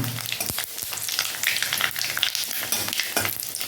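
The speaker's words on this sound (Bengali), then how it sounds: "পাঁচ ফোড়নটা একটু ভেজে নেব" Panch phoron spices frying in hot oil for a vegetarian mixed vegetable dish make a loud, close, crackling sizzle with scattered pops and spoon stirring, steady throughout with no talk.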